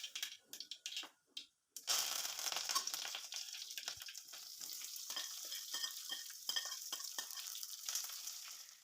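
Chopped onion sautés in hot oil left in the pan after frying okra, along with mustard seeds and curry leaves, for an okra tamarind curry. A few short sputters lead into a loud, steady, close sizzle.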